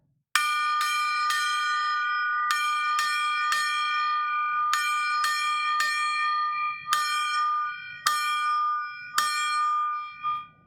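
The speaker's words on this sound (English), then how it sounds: "Now let's strike this gong 12 times for 12-strand DNA." A gong or bell gets struck about a dozen times, each bright metallic strike ringing out clearly on its own, with the hits falling in uneven groups and the earlier tones still sustaining as new ones land.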